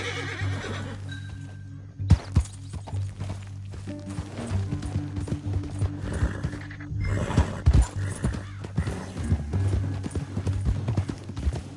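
Horses in the video game Red Dead Redemption 2, a rapid run of hoof clip-clops with a loud neigh, close and energetic over a low rumbling score, with no clear speech.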